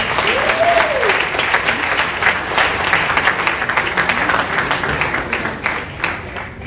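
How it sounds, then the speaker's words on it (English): Big, loud round of applause from a celebrity-filled audience at a book launch, continuous and full, with a brief whoop rising early on over the clapping. "let's just give a big round of applause to this Renaissance woman"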